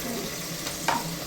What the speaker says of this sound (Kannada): ಈ ಥರ ಫುಲ್ಲು ಫ್ರೈ ಮಾಡ್ಕೊಂಡ್ಬೇಕಿದು